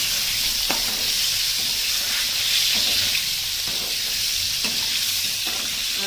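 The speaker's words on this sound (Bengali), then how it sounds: "কেটে ধুয়ে রাখা আলুগুলো ভেজে নেব। মাছের তেলেই ভেজে নেব।" Potatoes fry in fish oil left over from frying pangas fish, a steady loud sizzle and hiss with a few soft stirring clicks and no voices.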